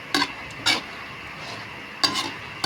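Pork and tofu being stirred and sautéed in a pan, with a few sharp scraping strokes of a utensil over a faint, steady sizzle.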